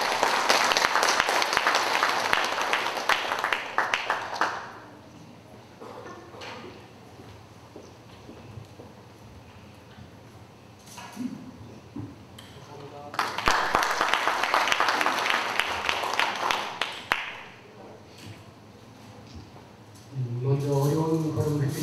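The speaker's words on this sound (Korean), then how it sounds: "여러분 따뜻한 환영의 박수 부탁드립니다." Applause from an audience at a Buddhist news TV station's sixth-anniversary ceremony, a dense burst of clapping for about four seconds, then a second swell mid-clip, separated by quieter stretches with some speech.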